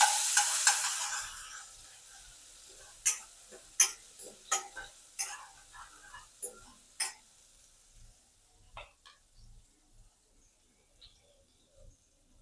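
Ginger, garlic and chili paste hitting hot oil, a brief bright hiss at the start that fades, followed by a series of sharp spoon taps and stirring clicks, spaced and gradually quieter.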